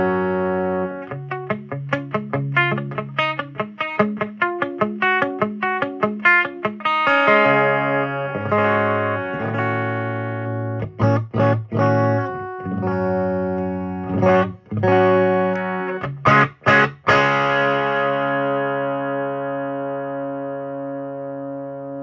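Bass guitar played through a cranked vintage Ampeg B15N amplifier, loud and thick with distortion, starting with a rapid repeated riff, then sustained ringing notes and chords that fade out.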